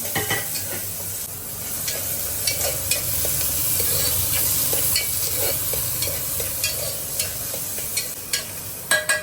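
Onions fry in hot oil for Bangalore-style bisibelebath, a constant close sizzle broken by the light scrape and tap of a spoon stirring the pan.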